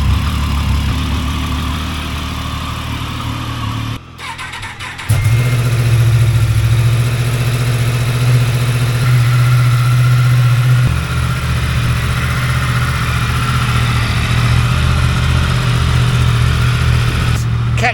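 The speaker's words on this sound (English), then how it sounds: "These bikes haven't been used or run since the end of October, so shall we see if they start?" Triumph and Yamaha motorcycles, unused for three months over winter, fire up one after another after a brief cranking gap, settling into a loud, steady idle with a deep throb, while people talk faintly nearby.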